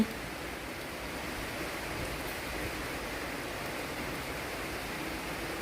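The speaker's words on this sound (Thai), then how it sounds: "แต่ว่าฝนยังตกดินอยู่" Steady rain falls on the ground outdoors, a dense, even hiss of drops holding at a constant level without pause from start to end, with no voices over it.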